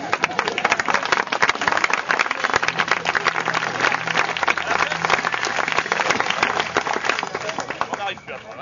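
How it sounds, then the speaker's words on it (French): Audience applause at a circus rope magic act, sustained dense clapping for several seconds, loud and close, fading out at the end; a faint voice speaks beneath it. "vous applaudissez trop"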